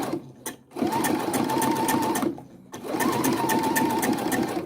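Home sewing machine stitching across a repair over a hole in fabric, running in two steady bursts of rapid whirring with a short pause between them, close and clear with no talking.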